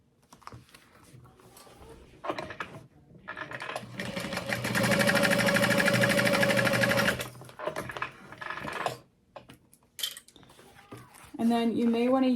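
A sewing machine top stitches a chevron add-on, starting with short bursts of mechanical whirring. It then runs steadily for a few seconds and stops in choppy, stop-start spurts. A voice talks near the end.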